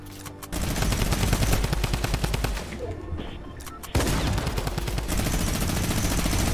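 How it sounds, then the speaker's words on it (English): A minigun in the Fortnite game fires in long, rapid bursts of loud, close gunfire, breaking off briefly near the middle before starting up again, with a few faint voices underneath. "Dude, this minigun's so annoying."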